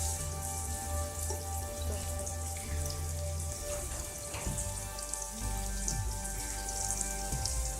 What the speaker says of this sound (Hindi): अब हम इसमें डाल देते हैं चिकन। मसाले में भून लेंगे।